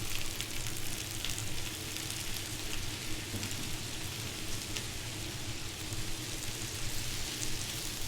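Shrimp and ginger fry in a hot pan with a steady, dense sizzle, close and continuous throughout, with no talk.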